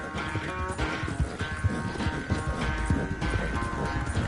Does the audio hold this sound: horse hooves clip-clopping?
yes